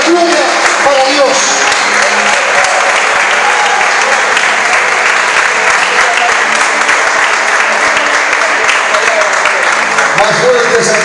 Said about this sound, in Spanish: Más fuertes aplausos.